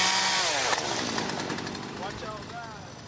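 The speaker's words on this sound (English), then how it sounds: "see that guy with the chainsaw?" A chainsaw cuts storm-damaged branches during cleanup in Lakewood, running steadily and loud nearby while someone talks over it.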